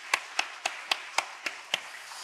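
Church congregation clapping in unison: seven sharp, evenly spaced claps in a steady quick rhythm, fairly quiet and with no talking.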